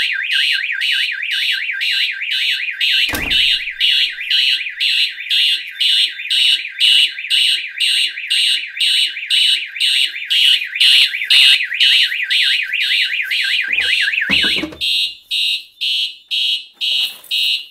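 A Simplex 4010 fire alarm system's sounder goes off under test, a loud close electronic alarm pulsing rapidly and continuously, with a few brief thuds and knocks partway through before the pattern changes near the end.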